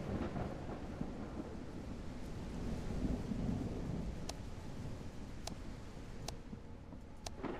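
A thunderstorm rages in the horror video game Ontotis, a steady wash of heavy rain and rumbling thunder with a few sharp crackling strikes standing out, continuous and fairly faint, with no speech.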